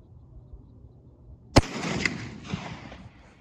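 One sharp shot from an inline muzzleloader rifle cracks out about a second and a half in, then a rolling boom and echoes trail off for around two seconds outdoors.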